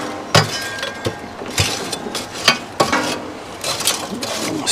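Hot coals in a pit barrel cooker are stirred, giving sharp scraping clinks and crackly rattles in irregular bursts, fairly close and alone without speech.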